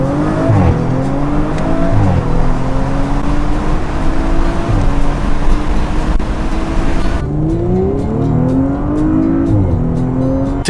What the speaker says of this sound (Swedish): Nu ska vi köra lite RS5 här då.